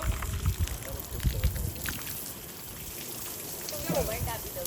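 Steady hiss of artificial rain sprayed on a film set, like heavy rain, with bursts of low rumble and scattered patter; moderately loud and continuous throughout.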